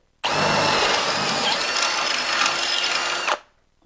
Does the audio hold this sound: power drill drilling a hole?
yes